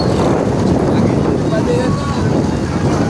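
Steady, loud wind buffeting the microphone outdoors on a summer night, a continuous roaring rush with no breaks.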